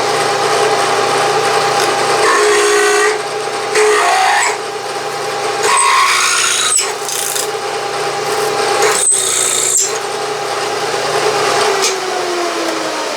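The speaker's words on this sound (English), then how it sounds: "I will just drill down until I feel the bottom of the hole." Drill press boring a deep hole in metal in a home machine shop, a steady whirring hum with rasping cutting and scraping that comes and goes over about thirteen seconds, with no talk.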